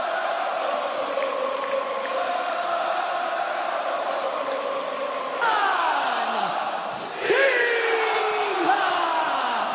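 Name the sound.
loud wrestling crowd at WWE Clash in Paris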